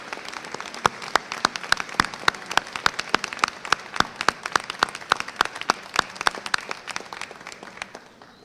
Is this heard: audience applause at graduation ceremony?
yes